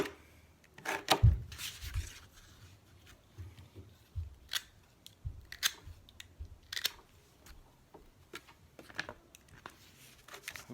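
Knife cutting leather strips for arm guards, made for stone lifting or archery, with a blunt blade. Close scraping and slicing strokes come in irregular bursts with brief pauses, alone with no talk.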